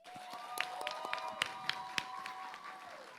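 An audience at the EBN TV relaunch claps, the sparse, uneven hand claps rising as distinct sharp hits over a sustained tone and a faint hum of the room.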